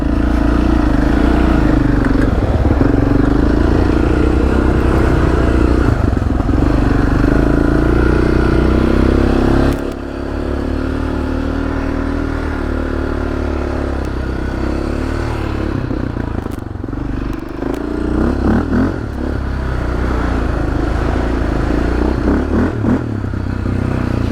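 A Yamaha or Suzuki sport quad ATV is ridden along a muddy Windrock trail, its engine droning loudly and steadily near the listener while the throttle shifts, with clatter and scraping from the rough ground.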